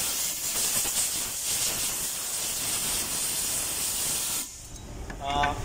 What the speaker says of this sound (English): before lapping always do the air blow